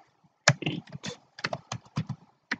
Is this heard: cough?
no